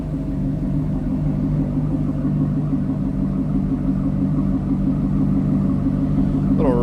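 A 2010 Chevrolet Corvette coupe with an LS3 engine idles through a catback exhaust, giving a steady low rumble heard close up behind the car for several seconds, with a brief faint squeak near the end.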